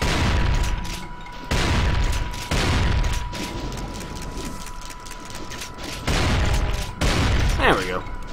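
Shotgun blasts and explosions in the PC shooter Brutal Doom, with several loud broadband bursts at uneven intervals over a steady game soundtrack and mechanical clatter, with a voice talking over parts of it.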